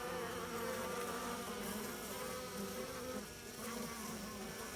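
Honeybees swarm inside an opened hive during an inspection, a dense, continuous buzzing drone heard up close and steady throughout, with no voices.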